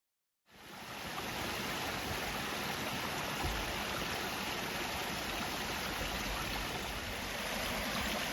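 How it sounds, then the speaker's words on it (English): Steady, continuous rush of a flowing stream on a hiking trail, a broad, even wash of moving water close by that holds constant for the whole stretch with no voices over it. "We haven't really had like moving nice water like this for a long time."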